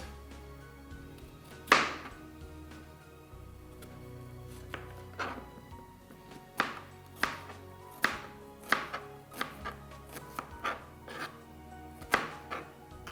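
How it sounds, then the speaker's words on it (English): Onions being chopped on a board with a knife, a steady series of sharp, close knocks spaced irregularly, some louder than others, with no talking over them. "let me just cut the onions inside"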